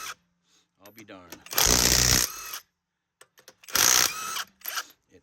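Greenworks 24V cordless impact wrench removing lug bolts from a 2023 Honda Ridgeline wheel, with two loud, harsh hammering bursts of about a second each separated by a pause, close by, with someone talking in between.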